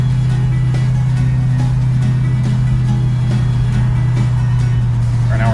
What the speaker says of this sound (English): There we are, we shifted a second. We're rolling. It's got a decent amount of torque.